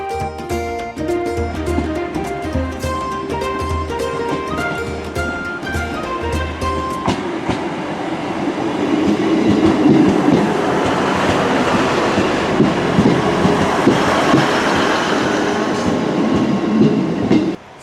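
Trains at Wigan Wallgate railway station, a steady loud rumble of a train moving through with rhythmic wheel clatter, building as it passes close by, with no talking.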